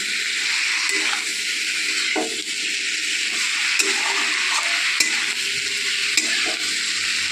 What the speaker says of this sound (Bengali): এবার হালকা করে শাক আর আলু, বেগুন, শিমটা মিশিয়ে নিচ্ছে